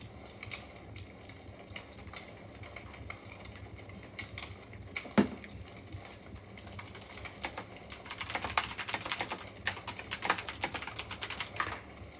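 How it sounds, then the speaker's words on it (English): A clicky mechanical computer keyboard clacks in quick bursts of keystrokes, sparse at first and then busier and denser toward the end, recorded close and quiet with no talking. "Again, clicky clack keyboard."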